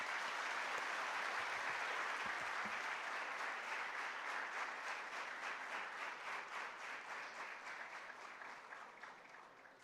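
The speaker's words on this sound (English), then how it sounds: "May we have a round of applause" A conference audience at a public memorial lecture breaks into sustained applause, a dense, steady clapping that stays loud and even for nearly ten seconds before slowly easing.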